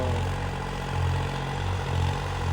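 A tractor runs while pulling a tiller-style cultivator, giving a loud, steady low engine drone that holds even and continuous throughout, with no talking.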